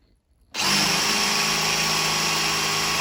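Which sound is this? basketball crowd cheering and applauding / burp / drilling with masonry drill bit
drilling with masonry drill bit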